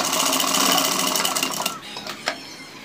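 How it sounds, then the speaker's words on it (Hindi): A sewing machine runs fast and steadily while stitching the collar onto a kurta, a close rapid whirring chatter that stops after a couple of seconds and leaves a few faint clicks and handling sounds. "और हम लब की सिलाई लगाना शुरू करेंगे यहाँ से।"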